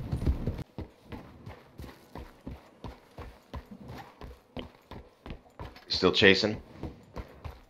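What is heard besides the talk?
horse galloping in video game Red Dead Online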